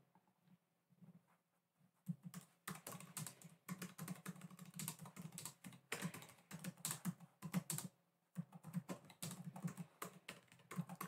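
Steady soft typing on a computer keyboard in a quiet indoor setting, close-up clatter of keys in long irregular runs with brief pauses and no voices.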